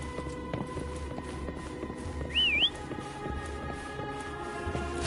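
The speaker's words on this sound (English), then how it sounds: "Try whistling." A single short rising-and-falling whistle sounds in the Wuthering Waves video game, brief and clear above a busy, steady background of game ambience and footsteps.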